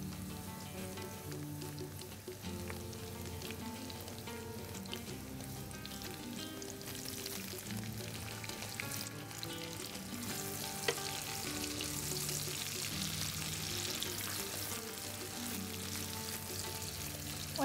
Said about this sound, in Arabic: نضيف هسه البصل ورا ما شوي يتحمص الثوم